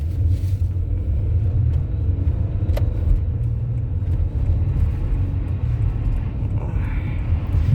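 A car pulls away first from a stop in a Canadian winter, with a low, steady engine rumble that holds under faint background noise and no talk.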